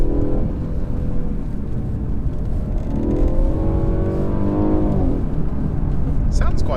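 A 2017 Mercedes E300 engine burbles and rises in pitch as it accelerates on a B road, a steady throaty drone with a brief higher whine near the end.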